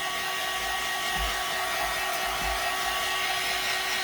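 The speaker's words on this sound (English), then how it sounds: "keep your dryer moving when you're putting the dryer on it and setting it" A hair dryer blows steadily on a plastic Dollar General snowman being grunged up, its constant whir close and loud and unbroken for the whole stretch with no talk.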